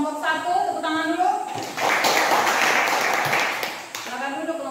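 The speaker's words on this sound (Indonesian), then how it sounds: "Tepuk tangan dulu." Classroom applause for a presenting student group, a burst of many hands clapping in the middle, with a teacher's voice talking before and after it.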